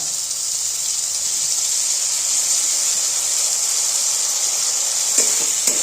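Masala okra with chana masala and ginger paste fries in a pan, an even loud hissing sizzle held throughout, with a couple of faint stirring knocks near the end and no talk.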